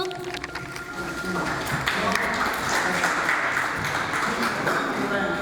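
An audience at an agricultural cooperative's annual general assembly claps to welcome a guest onto the stage. The dense crowd applause swells after a brief start and stays steady to the end.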